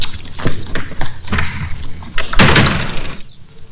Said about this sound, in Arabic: ما تقفل الباب زي البني ادمين يعني انت